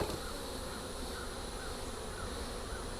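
Honey bees crowd an opened long hive on a rainy day, a dense, steady buzz that hums close by without letting up, with no talk over it.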